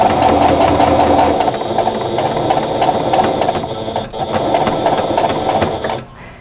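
Sewing machine running steadily while stitching down seams on a quilt patchwork block, close and continuous with a rhythmic mechanical chatter, easing off briefly near the end before stopping.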